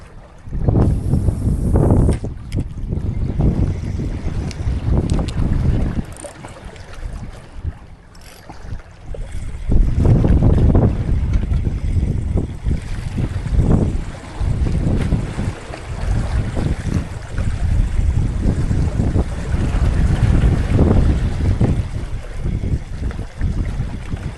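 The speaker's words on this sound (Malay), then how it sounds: "Angin nak hujan ni meh" Strong gusty wind ahead of a rainstorm buffets loudly across the open air at a rocky fishing shore, in rising and falling blasts, with water lapping underneath; no one speaks.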